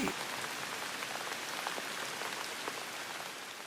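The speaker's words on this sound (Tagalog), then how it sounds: "Hala, biglang nag-ulan." Steady rain pours down hard, a dense hiss of drops pattering on a surface throughout, with no voices.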